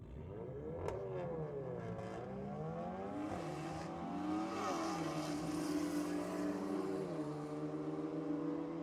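Race cars, a VW Golf against a Toyota Supra, launch down a drag strip at a JDM Euro night, engines revving hard and rising through gears with loud, sustained roars from close by.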